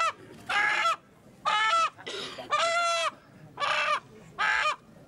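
A cockerel clucks and squawks in a series of loud, harsh calls, about six bursts with short pauses between them, close to the listener.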